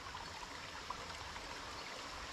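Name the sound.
stream water flowing out near a rail trail bridge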